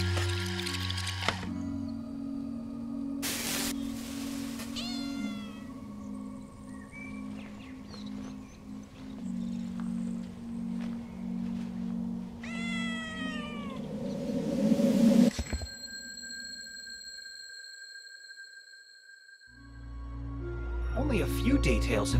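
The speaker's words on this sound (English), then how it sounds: "We'll need to scare the cat away if we want to save Adam." A cat meows in the video game Time Loader, with several short mewing calls over a steady bed of game music and ambience, followed by a louder burst and a brief quiet gap.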